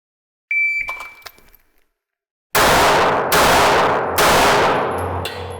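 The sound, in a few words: 9mm handgun shots fired at a 10-yard target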